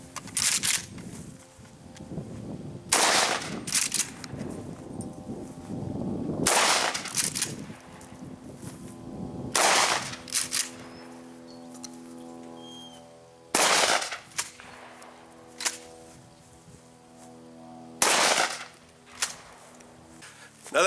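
Birdshot fired at a 10-inch AR500 steel gong: several sharp, loud shotgun blasts spaced seconds apart, each followed by a bright metallic ring that hangs and decays between shots.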